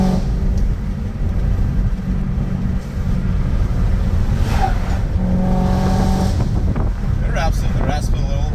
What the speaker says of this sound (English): You just want to hear what's coming out of the tailpipes.